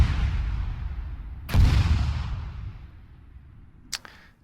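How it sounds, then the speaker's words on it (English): A heavy artillery barrage from MLRS rockets lands in a military video game on Tanoa, a loud boom bursting over dense rumbling battle noise, followed by a sharper distant crack as the din slowly fades. "artillery strikes and kills the entire group"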